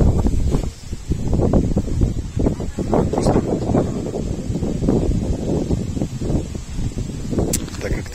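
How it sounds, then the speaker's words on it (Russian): Strong wind buffeting the microphone outdoors, producing heavy low rumbling gusts that swell and fade continuously and loudly, with faint voices underneath. "Ветер, ураган."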